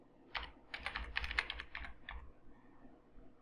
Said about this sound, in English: type in the Excel function